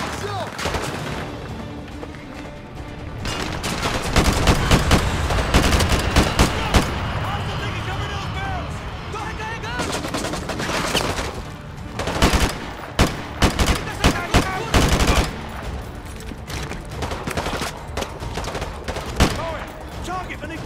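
Heavy gunfire in Call of Duty Modern Warfare 2 Remastered, with rapid automatic bursts, single shots and booming explosions, loud and dense over about twenty seconds, with shouted voices mixed in.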